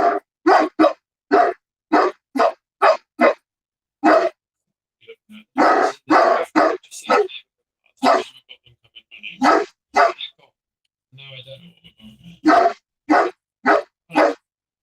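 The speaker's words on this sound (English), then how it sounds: "what are you barking at?" Several dogs bark in sharp, repeated bursts, some close and loud, with brief pauses and a few softer yips between volleys.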